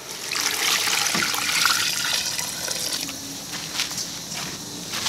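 Water pours steadily into a cooking container, making a continuous rushing splash that shifts into lighter trickling and dribbling as the container fills; close and alone, with no talking.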